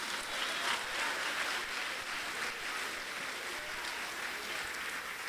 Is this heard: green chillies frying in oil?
no